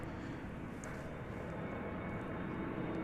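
An American Airlines Boeing 737-800 at DFW Airport gives off a steady, distant jet engine rumble, faint and unbroken with no voices.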